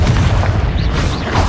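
A fire spell, Confringo, detonates in Hogwarts Legacy with a heavy, sustained boom, close and loud, its deep rumble rolling on without pause.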